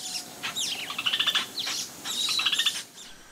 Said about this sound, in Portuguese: os passarinhos ficam cantando